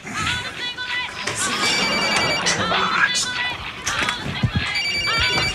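A telephone rings repeatedly in a busy office, its trilling bell-like tones recurring over a noisy babble of voices and crowd chatter, fairly loud and close.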